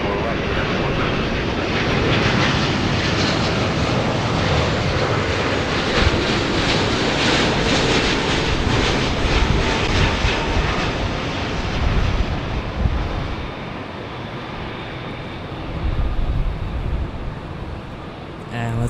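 Jet airliner landing on a runway at Los Angeles International Airport, a loud sustained engine roar that swells and then eases as it rolls out, with wind buffeting the microphone throughout.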